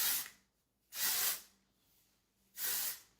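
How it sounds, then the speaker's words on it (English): Bumble and bumble Thickening Texture Spray hisses onto hair in three separate short bursts, each a close, breathy spray with quiet pauses between. "This one's the Bumble Bumble Thickening Texture Spray"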